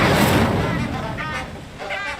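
An Incendio fire spell cast in Hogwarts Legacy gives a loud, broad whooshing blast that flares at once, then slowly fades over about two seconds.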